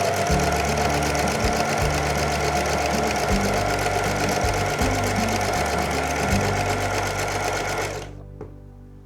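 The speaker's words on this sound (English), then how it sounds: "down the long side I am going to do a 1/4 of an inch seam" A sewing machine stitching a quarter-inch seam along the long side of fabric for a jelly roll rug, a loud rapid mechanical whir that runs steadily and then stops near the end.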